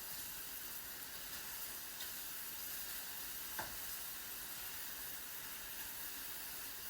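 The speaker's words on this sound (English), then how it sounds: "I have some butter in the bottom. And I'm just going to slowly cook these down." Mushrooms cook slowly in butter in a pan with a faint, steady sizzling hiss and one small click partway through.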